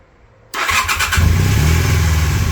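A Honda CM400 motorcycle engine cranks briefly and then catches, jumping to a loud, steady idle close by with a rough, uneven rumble and no voices.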